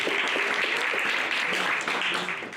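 Audience applause greets returning attendees at a StorySlam storytelling event, a steady wash of clapping from a crowd that holds throughout and fades slightly at the end, with faint voices mixed in.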